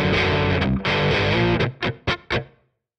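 Distorted electric guitar playing a rock riff's end sequence, a sustained crunchy chord giving way to several choppy strummed stabs that cut off sharply into silence, loud and close.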